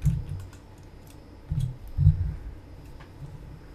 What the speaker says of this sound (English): You're typing a lot.